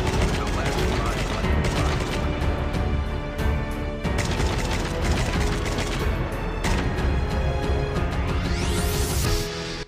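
Rapid semi-automatic fire from an SKS rifle in the mobile shooter Call of Duty Mobile in battle royale mode: a dense, continuous stream of loud gunshots with mechanical clatter, running steadily throughout before cutting off abruptly.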